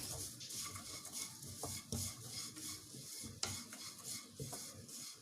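Ragi chivda with jaggery stirred in a pan with the flame turned off, a steady scraping and rubbing of a spoon against the metal with occasional light clinks, close and continuous, no voices.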